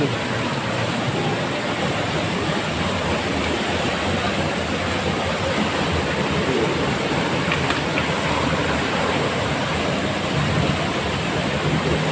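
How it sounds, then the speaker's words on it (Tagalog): Heavy, unbroken roar of a flooding river current during non-stop heavy rain, a dense, loud wash of rushing water with no pauses throughout. "Yung ulan po ay walang tigil. Kaya po yan. Malakas po ilog."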